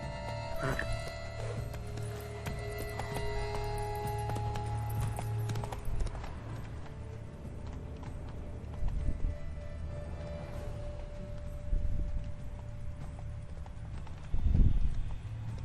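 The horse Roach galloping in The Witcher 3: Blood and Wine, with rhythmic hoof clip-clop running continuously over game music, loud throughout with a few heavier thuds near the end.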